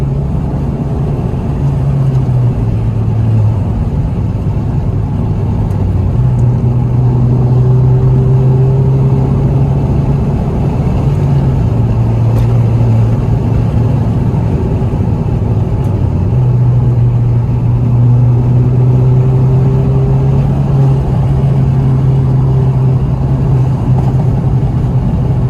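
A Ford Fiesta ST rally car on a public road, engine droning loud and close from inside the cabin, pitch rising and falling through shifts with a constant rumbling road noise.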